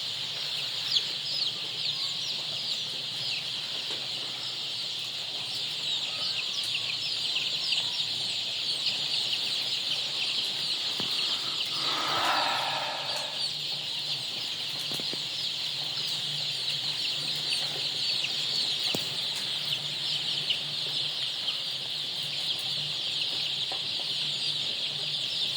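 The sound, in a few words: Adler and Leghorn mixed chicks clucking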